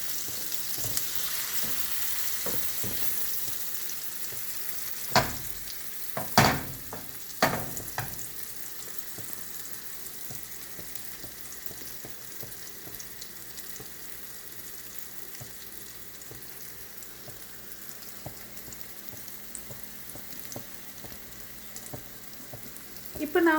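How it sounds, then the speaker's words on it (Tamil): Butter and pineapple slices fry on a tava with a soft, steady sizzle. A few sharper clinks and stirring sounds come near the start, then the gentle frying continues alone. "அந்த பொரிக்கிற அந்த சிஸ்லிங் சவுண்ட் கொஞ்சம் கம்மியாயிடுச்சு"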